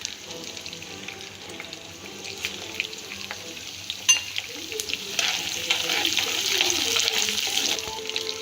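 Tamarind rice paste frying and being stirred in a pan, a continuous sizzle that grows louder, with scraping stirs throughout.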